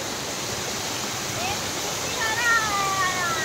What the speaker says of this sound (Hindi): इतना शानदार वाटरफॉल है